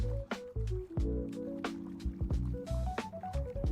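Footsteps splashing through shallow water in The Lord of the Rings Online, a run of wet sloshing strides close up, layered over game tones and chimes with no talking.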